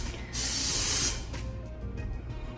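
An aerosol spray hisses in a hotel room in one close, steady burst of about a second. Room noise and faint rustling follow.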